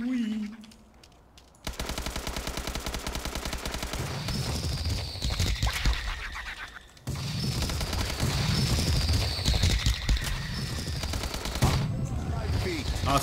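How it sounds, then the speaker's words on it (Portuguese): Automatic gunfire from a Call of Duty custom zombies match, rapid continuous bursts with a nearby explosion, loud and dense throughout after a short quiet start, with faint voices underneath. "fui atirar nos seus e explodiu um do meu lado"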